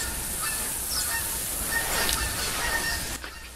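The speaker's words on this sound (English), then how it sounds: "the geese are flying in really weird formations now" Geese honking in the hunting game theHunter 2015, a flock calling steadily over an outdoor ambient bed, moderately distant and continuous throughout.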